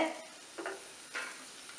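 Soft sizzling of spices frying in hot oil for a tamarind eggplant curry, with a few faint scraping stirs, quiet and close, no voices.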